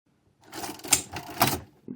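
A 1964 R.C. Allen 805 adding machine, with two sharp close key strikes and printing clacks about half a second apart and a faint click at the end, in an otherwise quiet room.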